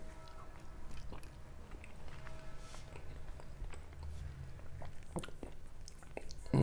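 Soft biting and wet chewing of canned Greek stuffed grape leaves with rice, quiet close-up mouth sounds with small squishy bursts and light crunches scattered over a faint background, louder at the very end.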